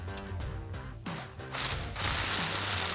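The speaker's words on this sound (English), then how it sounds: "And now to tighten up our side bolt, we'll be using a 19mm socket and a 19mm wrench." Ratchet wrench with a 19mm socket tightening a side bolt on a Jeep Gladiator JT during a leveling kit install, rapid close metallic clicking in quick bursts of pawl ratcheting with no talking.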